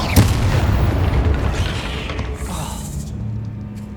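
A fire spell, Incendio, cast in the Hogwarts Legacy video game, with a sharp booming burst at the start followed by a dense, roaring rumble that slowly fades over a few seconds. No one speaks.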